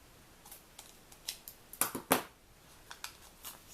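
Scissors snipping paper for a 3-D butterfly card, a handful of quick, close, crisp cuts with two sharper snips in the middle and quiet between them.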